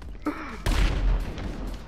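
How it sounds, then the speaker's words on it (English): A brief blast followed by a rumbling, crackling burst of explosions in GTA Online, loud and close, with a short sound just before it. "Step out of elevator, hear explosions."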